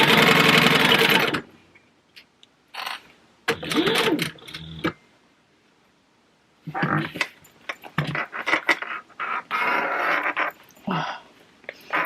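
A sewing machine stitching a leather wallet panel runs in short, separate bursts broken by silent pauses. Soft handling clicks fall between the runs.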